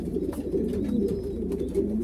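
Racing pigeons in a breeding loft give a steady, low murmur of cooing throughout, close and continuous with no speech.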